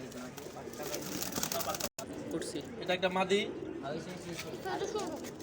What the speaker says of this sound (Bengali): এটা কি কবুতর